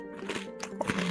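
Cereal crunched and munched right up against the microphone, giving a run of close, crisp, irregular bites and chews over about a second.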